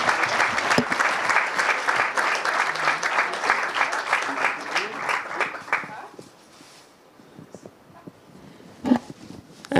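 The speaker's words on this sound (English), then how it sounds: "Big round of applause." Audience applause at a thesis award ceremony: steady, full clapping from a crowd for about six seconds, then tapering off into a quieter room with scattered sounds.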